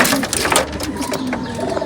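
Pigeons coo in a loft, several birds close by producing overlapping low, throaty calls in a continuous, busy murmur.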